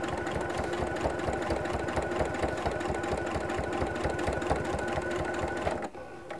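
A sewing machine stitches binding onto a quilt, running steadily with a fast, even mechanical chatter close by, then stops abruptly near the end.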